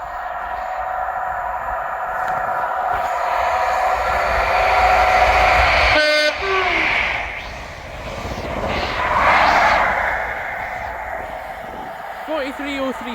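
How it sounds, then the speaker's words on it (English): Delayed Scotrail passenger train from Aberdeen to Edinburgh running through Monifieth station, a loud sustained engine roar that swells, breaks off with a sharp clatter, then rumbles away, with a voice speaking over it. "Passing through now is the delayed 1714 Scotrail service from Aberdeen to Edinburgh Waverley."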